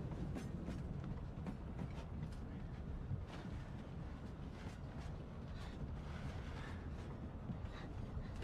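A train rolls steadily along the rails, making a continuous loud rumble with wind-like rushing and faint rhythmic knocks throughout.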